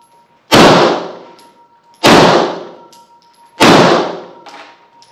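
Three loud, sharp gunshots at the Megdan shooting club in Strumica, Macedonia, each a hard crack with a short decaying tail, spaced about a second and a half apart in a fairly quiet setting.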